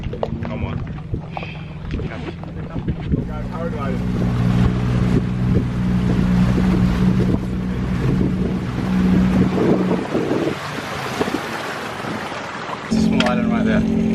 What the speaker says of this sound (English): Let's get on this damn boat.